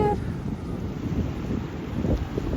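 Strong wind on a beach in Réunion roars steadily across the microphone, a dense low rumble that never lets up, with no voices over it.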